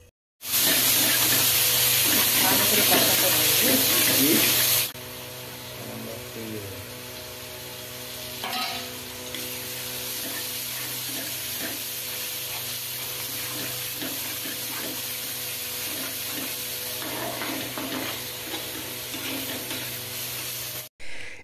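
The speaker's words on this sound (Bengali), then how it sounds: "এবার ভালো করে কষাতে থাকুন।" Spices, salt, turmeric and vegetables sizzling in a pan while being sautéed for a Bengali eggplant kalia, a steady close frying hiss throughout with occasional stirring scrapes.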